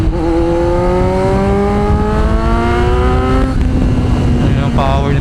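Kawasaki Z900 exhaust revving up loud and close, rising pitch for several seconds, then dropping off before a brief second blip near the end.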